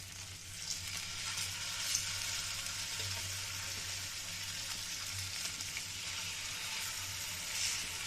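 Chicken frying in a pan over low heat gives a steady, close sizzle that holds evenly throughout, with a faint low hum underneath and no voices.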